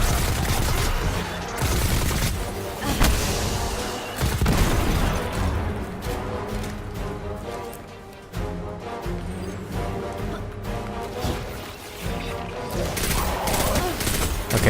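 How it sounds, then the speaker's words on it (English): The Suros auto rifle in Destiny 2 fires in sustained rapid bursts, loud and continuous, with booming impacts and brief pauses between strings of shots. "I'm liking this auto rifle already"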